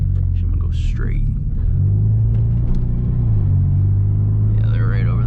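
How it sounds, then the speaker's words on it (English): A 2017 Hyundai Veloster Turbo rumbles loudly while driving, its engine and exhaust droning low and constant, with the pitch rising as it accelerates and people talking quietly inside the cabin. "this car is fucking loud"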